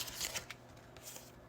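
Oracle cards from a Moonology deck being shuffled, with soft riffling rustles and a few brisk flicks close by over quiet room tone, no talking.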